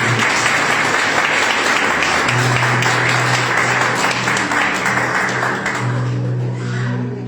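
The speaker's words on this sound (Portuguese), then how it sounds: "Bate as palmas para ele." A Pentecostal church congregation in Santo André claps loudly and continuously, dense rhythmic palms filling the room over a low sustained hum, easing slightly near the end.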